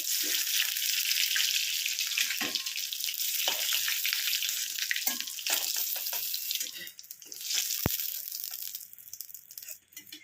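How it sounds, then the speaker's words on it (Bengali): An egg fries in a pan with a bright, hissing sizzle that thins out toward the end, with a few light clicks and scrapes and no clear talking. "দেখুন ডিমটা ভালো করে ভাজা হয়ে গেছে, সব দিকটাই।"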